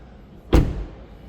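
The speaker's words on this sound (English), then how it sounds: "So let's shut the door" A single solid thud of a 2027 BMW iX3 50 xDrive car door being shut, close and sharp, then quiet.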